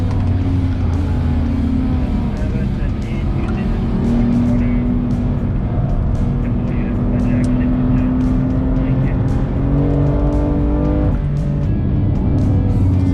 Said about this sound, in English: That screaming straight six, man.